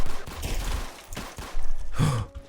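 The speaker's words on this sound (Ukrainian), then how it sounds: "по мені стріляють, кажеться" Bursts of gunfire in a Roblox shooter game, a rapid fusillade of loud crackling shots in uneven clusters, close and dominant across the moment.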